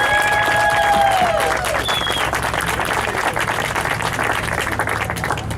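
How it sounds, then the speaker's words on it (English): Audience applause at a mural dedication in Alum Rock Village, dense steady clapping from an outdoor crowd with a few faint cheers and whistles early on. "Can we give them a round of applause?"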